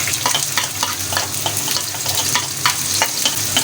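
Chopped onions sizzle loudly in hot oil, a dense continuous crackle close by, with frequent brisk spatters and scraping stirs spread evenly throughout.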